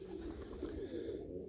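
Racing pigeons, tiger grizzles and Meulemans, coo softly in a loft, a low throaty burbling that rolls on continuously, faint and close with no speech over it.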